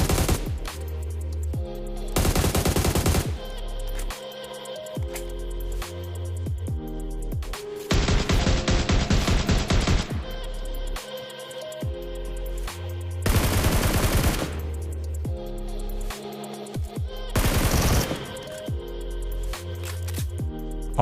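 Rapid automatic gunfire from PUBG Mobile, loud and close, arriving in several sustained bursts separated by short gaps, with no talking.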